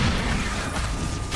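Expulso explosion spell going off again and again in the Hogwarts Legacy video game, a dense, continuous roar of blasts and crashes packed tightly together at steady loudness, with a fresh burst right at the end.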